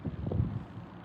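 Outdoor wind buffeting a microphone, a low fluttering rumble with uneven gusty pulses over about a second, close and muffled.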